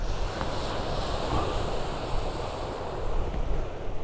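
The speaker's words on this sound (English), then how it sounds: "as the waves break on the rocks around the church" Waves breaking on the rocks around the church at Porth Cwyfan on Anglesey, a continuous roaring surf wash mixed with wind buffeting the microphone, loud and unbroken.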